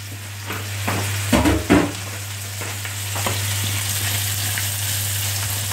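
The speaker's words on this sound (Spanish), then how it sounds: "Ahí vamos a dejar que se sofría esto." Empanada filling sizzles steadily in a frying pan, a continuous close crackle with a few louder stirring scrapes early on and a constant low hum underneath.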